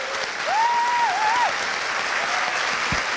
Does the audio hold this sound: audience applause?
yes